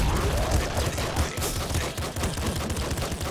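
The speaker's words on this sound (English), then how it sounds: "Bigger explosions." Continuous rapid bursts of gunfire and explosions from the video game Nuclear Throne crackle densely with no pauses, loud and chaotic.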